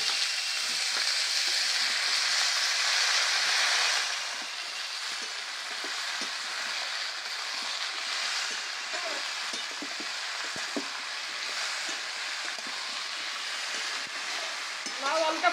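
Bottle gourd and potato dropped into a mustard-oil tempering with green chilli and curry leaves sizzle loudly, the hiss strongest for the first few seconds, then settling into a steady fry with light stirring scrapes.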